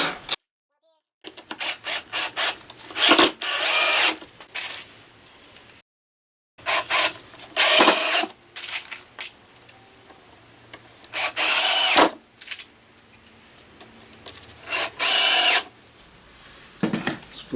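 Power drill driving screws into a wooden shop tool base in repeated bursts of a few seconds, loud and close with short pauses and quiet between runs, faint talk in the gaps.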